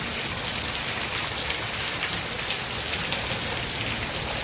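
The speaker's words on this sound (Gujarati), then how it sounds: "અત્યારે વરસાદ પડી રહ્યો છે" Rain falling steadily after clouds roll in at a family home, where a parked motorbike is getting soaked; an even, dense hiss with scattered drop patters runs throughout.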